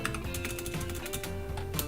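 Fingers type on a computer keyboard during a Transport Fever game session, a close, quick patter of key clicks with a faint steady hum underneath.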